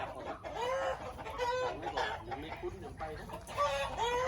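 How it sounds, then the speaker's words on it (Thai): White and black ducks on a farm give repeated, nasal, fowl-like calls in short bursts, close by and fairly loud, with overlapping voices from the flock throughout. "แล้วก็มีเป็ดขาวเจ็ดตัว แปดตัว"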